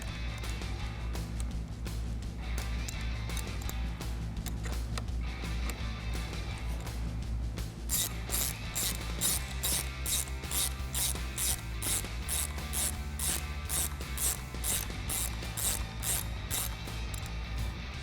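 Ratchet tightening a nut on the positive fog light wire of a 2021-2022 Ford F-150 off-road front bumper, a long run of rapid metallic clicks at close range, steady and loud, with background music underneath.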